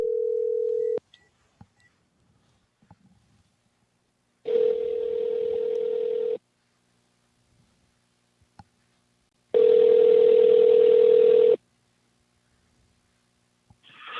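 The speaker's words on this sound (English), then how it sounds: "All right, Davio, we're calling, brother." A phone call dials out over the line, sounding a steady ringback tone in three repeated bursts of about two seconds each, separated by long silent gaps, with a faint click or two between them.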